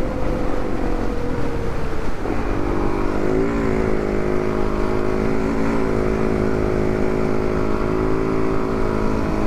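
Yamaha WR450F dirt bikes drone steadily across soft sand on Fraser Island, a loud continuous engine note with a brief dip and shifting revs near the middle, no voices.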